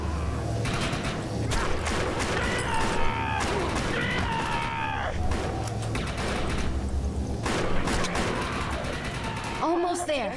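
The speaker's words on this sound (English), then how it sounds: "Grenade going out." Grenade blasts and gunfire from the video game Defiance, set around an overloaded reactor with mutants, sound as a busy, continuous layer of shots, bursts and game effects with talk over it and a louder burst near the end.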